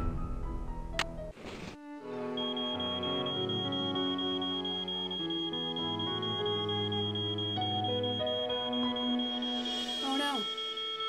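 A high electronic library alarm in the Nancy Drew game Treasure in the Royal Tower beeps in a steady, piercing tone for several seconds over game music, with a voice briefly heard alongside.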